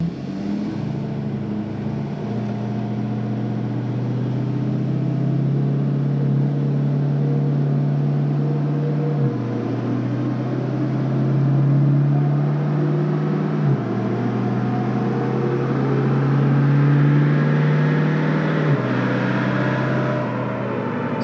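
A 6.7 Ford diesel truck engine runs at 50-60% throttle for about twenty seconds, its low drone stepping up and down as the transmission shifts gears, with no talking.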